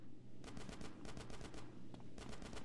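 Rapid bursts of automatic gunfire in Grand Theft Auto: San Andreas, loud and close, two volleys of quick shots separated by a short gap over a low background rumble.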